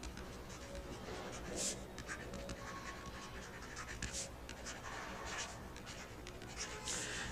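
Pen scratching out accounts on paper for a final-accounts exercise, with steady close scribbling and faint strokes continuing throughout, no voice present.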